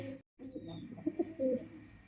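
A pair of pigeons, a ring-tagged male and female kept together, coo softly in a few low rounded phrases, near and fairly quiet, with a brief pause of silence early on.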